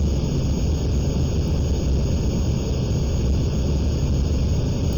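Aircraft engines throttled up for takeoff in Aerofly FS2 over Switzerland, a loud, dense, continuous engine drone and rumble that stays steady for the whole stretch, with no voices.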